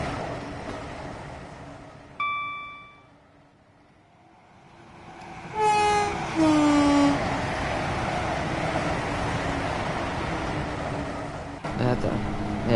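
Train whizzing past in Train Sim World 2, a brief horn blast, then a rising approach as a sharp doppler whine sweeps down and a loud rushing roll of the passing carriages, with a voice talking over parts.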